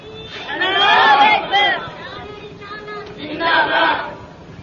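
A crowd at a Urdu religious sermon chants slogans in two loud, surging bursts of many voices, a quieter murmur of the gathering between them.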